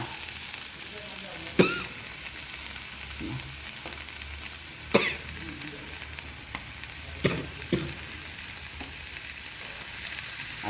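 Slices of raw bitter gourd, rubbed with oil, fry in a pan on a gas stove. They sizzle and crackle continuously at moderate volume, with occasional sharp clinks and stirring knocks of a utensil.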